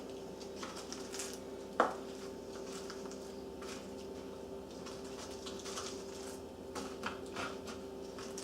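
Country style ribs being flipped on an Ugly Drum Smoker, light clinks and scrapes of tongs on a metal grate, one sharper clank near the start and faint scattered taps after, with no talking.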